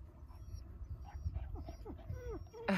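A dog whimpers close by in a series of short, high, wavering whines, with quiet background sounds and a brief rustle at the end.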